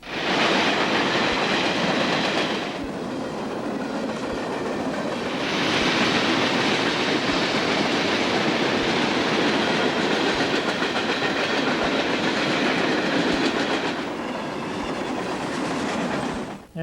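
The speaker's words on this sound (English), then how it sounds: "this is train 22W. It's a daily train running from Chicago to Rutherford, PA" Freight train 22W, a daily Chicago-to-Rutherford, PA run on the Pennsylvania Railroad Broadway line near Huntington, PA, rolls steadily past close by, loud wheel clatter and rumble continuing throughout with swells in intensity and no talk.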